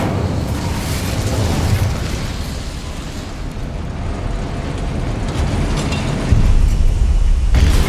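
A fire spell blast from the video game Hogwarts Legacy: a continuous loud rumbling, crackling roar of flame, swelling heavier near the end.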